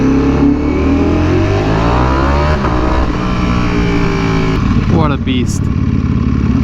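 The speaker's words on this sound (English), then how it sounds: "Those shifts are so nice and aggressive." A Ducati V4R motorcycle engine revs hard and loud, rising through the gears with quick aggressive upshifts, close and continuous, while someone speaks briefly over it.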